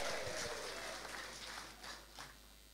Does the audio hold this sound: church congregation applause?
yes